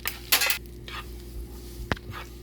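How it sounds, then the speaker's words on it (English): Noodles being stirred into a buttery shrimp scampi sauce in a pan, a few close metallic scrapes and clinks of utensil on pan over a low background hum. "So we're just gonna stir, get some of that more sauce in"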